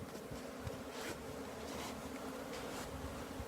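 A male honeybee buzzes close by, a thin droning hum that swells and fades in short passes as it lifts off, faint against quiet outdoor background.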